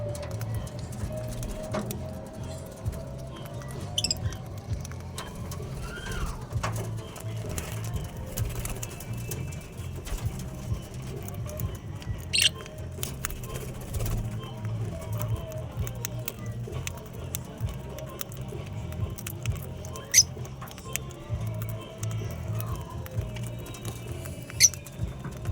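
Pet pigeons feeding together, giving continuous soft pecking and pattering with scattered faint coos and sharp taps over a low background rumble.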